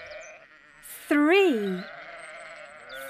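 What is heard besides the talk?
sheep bleating on a farm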